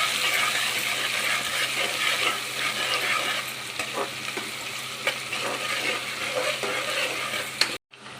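Onions with green chillies sizzle and crackle steadily in hot oil after garam masala, with occasional stirring scrapes. The sound is loud and continuous, then cuts off abruptly near the end.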